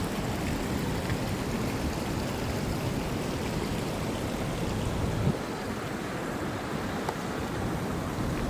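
Steady rushing flow of a stream at a trail water crossing in Falls Park, a continuous broadband wash of water running close by with no talk.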